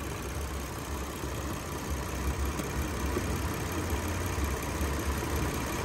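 Car AC condenser cooling fans run steadily under an idling engine, a continuous close whir and hum with no talking, the level fairly constant throughout.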